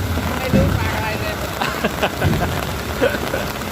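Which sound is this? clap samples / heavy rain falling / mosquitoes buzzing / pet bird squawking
heavy rain falling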